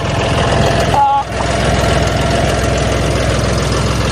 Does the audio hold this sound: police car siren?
no